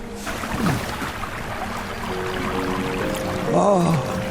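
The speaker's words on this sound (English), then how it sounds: "I just used a bucket from one memory to scoop up water from a different memory" In the video game King's Quest (2015), a bucket scoops up water with a watery slosh and splashing, followed by softer trickling; a faint tonal game sound and a brief sung or voiced note appear near the end.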